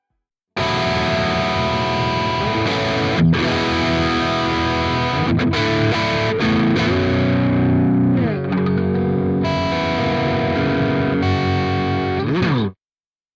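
Electric guitar through the Plini Chorus from the Archetype Plini X plugin at default settings, played as sustained, distorted chords with a shimmering modulated sweep, loud and continuous for about twelve seconds before cutting off abruptly.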